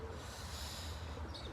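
Pigeons cooing outdoors at moderate distance, a soft continuous murmur of several birds over steady low ambient rumble.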